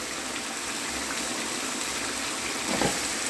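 Water poured into a pan of chicken curry for coconut milk chicken kulambu, a steady broadband gush running throughout with a brief louder splash near the end.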